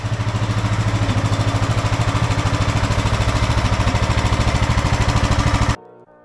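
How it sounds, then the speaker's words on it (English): A racing lawn mower engine runs loud and close at a steady, fast-pulsing idle, then cuts off abruptly near the end, leaving near silence. "It's running so much smoother than it was before."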